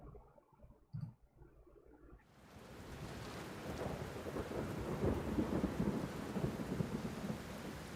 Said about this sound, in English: This is the angel thunder.